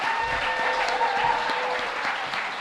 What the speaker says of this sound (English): Please give them one more warm round of applause